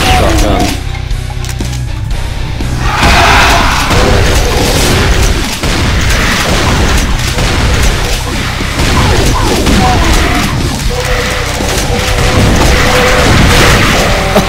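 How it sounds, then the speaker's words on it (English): Shotgun blasts from the Brutal Doom 2 mod for Doom II, rendered as loud, dense booming bursts with heavy low-end over a continuous wash of game noise and music. "I'll try this with shotgun."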